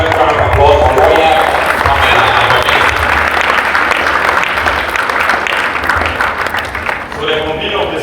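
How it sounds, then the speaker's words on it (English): A crowd at a public event applauds the speaker Roya with continuous, loud clapping mixed with crowd noise. A voice speaks over it early on. "Let's round of applause for Roya."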